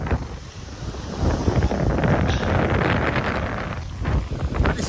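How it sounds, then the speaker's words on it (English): Gusty wind buffets the microphone on a choppy, cold day by the water near Bob Marley's former house in the Bahamas, a loud, continuous rumbling roar that swells and eases with no speech. "And it is a very choppy, windy, cold day."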